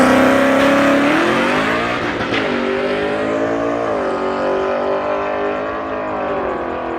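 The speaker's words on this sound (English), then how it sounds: "that was a solo pass with the stick shift. He went through every gear, but he almost missed one of them" A drag race car makes a solo pass with a stick shift, its engine screaming loudly as the pitch climbs and drops through successive gear changes.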